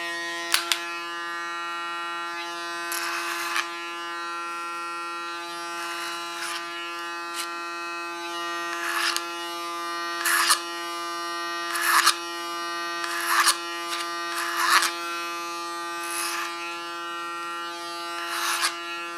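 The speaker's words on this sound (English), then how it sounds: "With a flat comb and my clipper of Panasonic, I do the underlines." A Panasonic electric hair clipper buzzes steadily while cutting a man's hair during a basic haircut, its constant hum broken by repeated brief snipping bursts as it moves through the hair.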